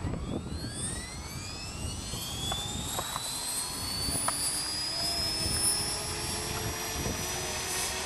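A model jet turbine on a Dragonus model jet spools up slowly on a windy day, its thin whine climbing steadily in pitch over gusty wind noise at close range.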